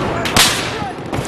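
A single gunshot cracks sharply in Battlefield 4 multiplayer, a loud close burst amid ongoing game noise, followed by another short crack a moment later.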